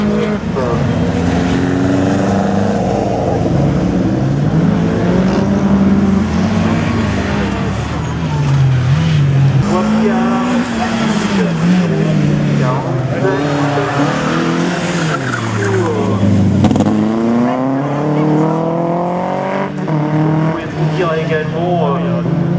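Rally cars at the Slalom du Mortanais tearing through a slalom course, engines revving up and down with repeated tire squeal and skidding, loud and close, while a commentator talks over the action.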